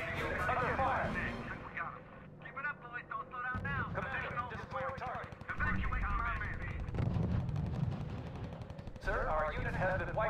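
Gunfire in the World War II strategy game R.U.S.E., bursts of rifle and machine-gun shots crackling over battlefield noise while soldiers' radio voices talk throughout.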